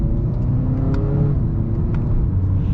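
A 2022 Jeep Compass with an 8-speed dual clutch transmission accelerates at full throttle, heard from inside as a steady engine drone with rising tones and road rumble.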